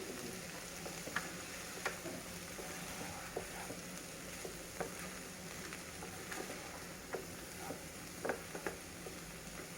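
Potato, beans and fenugreek leaves frying in a covered pan: a quiet, continuous sizzle with soft crackles and occasional small pops scattered through, faint and even throughout, with no speech.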